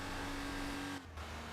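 Porsche engine in the racing game Need For Speed Porsche Unleashed, during a rally stage in Western Europe, holds a steady loud drone with a high whine, then drops out for a moment near the end before returning.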